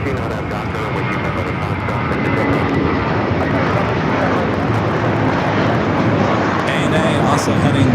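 Loud, continuous engine roar from airliners at Los Angeles LAX airport, a broad steady rumble that holds for the whole stretch, with radio chatter faintly mixed in.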